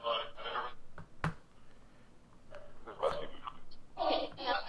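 Radio sweep noise from a spirit box phone app: choppy bursts of scanning static and garbled broadcast fragments, stopping and starting in short irregular chunks at moderate loudness, with brief clicks between them.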